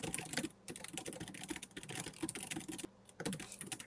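Someone types steadily on a computer keyboard, with rapid, close key clicks running in bursts and two brief pauses, and no voices.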